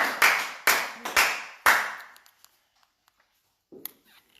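A church congregation claps in a few loud, uneven bursts over about two seconds, fading into quiet with a faint rustle near the end.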